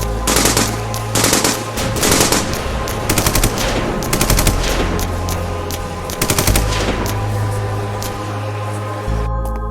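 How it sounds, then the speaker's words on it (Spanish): Sustained bursts of machine-gun fire from soldiers shooting into empty space, loud and close, with rapid repeated volleys over a steady rumbling backdrop in a science-fiction drama scene. "Comenzaron a disparar al vacío."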